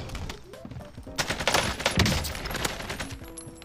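Rapid gunfire from an AK rifle fitted with a red dot sight in a video game crackles in a dense burst, with overlapping shots swelling in the middle and game ambience underneath.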